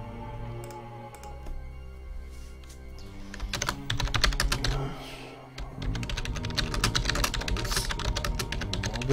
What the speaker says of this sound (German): Ja, ich weiß, man hört meine Tastatur